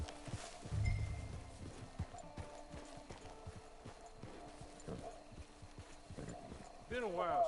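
Horse hooves clip-clop in a steady walking rhythm under background game ambience in Red Dead Online, with a short horse snort near the end.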